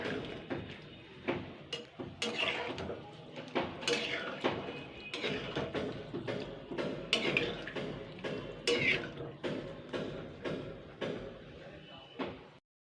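Pumpkin curry with rice paste stirred in a pot, a series of close clattering scrapes and knocks of a spoon against the metal in an irregular rhythm, with a voice talking throughout.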